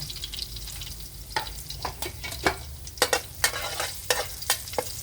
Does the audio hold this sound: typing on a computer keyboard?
no